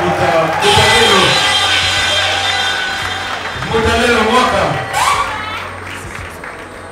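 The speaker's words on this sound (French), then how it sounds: "Si on peut l'applaudir très très fort" Hall audience at a celebration clapping and cheering loudly, a broad crowd roar that swells twice, with a voice speaking over it.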